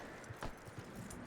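Horse hooves clip-clop a few times in Red Dead Redemption 2 as the horse is led out of the stables, soft and mid-distance over a low ambient bed, with one brighter scuff in the middle.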